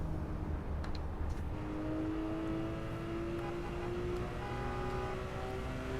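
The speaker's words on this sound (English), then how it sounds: "This Porsche makes a lovely noise" A Porsche engine in Assetto Corsa on the Shutoko expressway hums steadily and climbs slowly in pitch as it revs through a gear, moderately loud and continuous for several seconds with no talking over it.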